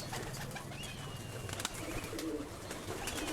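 High flyer pigeons of the Shaheen, Ababeel and Taar wali breeds, kept in Karachi, coo softly in low, faint murmurs against a quiet background hum.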